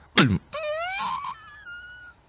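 A beatboxer vocally imitates a door swinging open: a sharp click followed by a long, wavering creak that glides and fades, close to the microphone.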